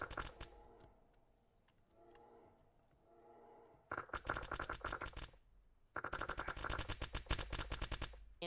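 Gunfire in DayZ, from the Bear Mountain fight, arrives as quiet scattered distant shots, then two bursts of rapid, close, rattling automatic fire, each lasting about two seconds, with no talk.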